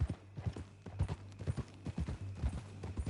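Horse hooves clip-clop steadily in Red Dead Redemption 2, a quick, regular rhythm of close, distinct hoof strikes over a low hum.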